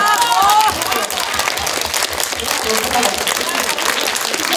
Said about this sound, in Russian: Зал взрывается овациями.